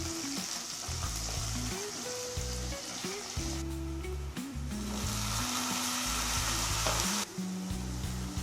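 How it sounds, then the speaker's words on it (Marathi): Green chillies and onion frying in hot oil with cumin and mustard seeds for dhaba-style dal tadka, a loud continuous close sizzle with stirring scrapes in the pan, with no talking. "हिरवी मिरची, कांदा, हे थोडं तळल्यानंतर आपण नंतर टोमॅटो टाकणार आहोत।"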